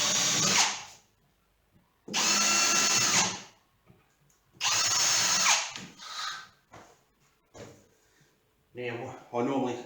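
A power drill bores holes for drawer slides in a wardrobe cabinet build, giving three loud bursts of whirring of a second or more each, separated by quiet gaps, with a person talking near the end.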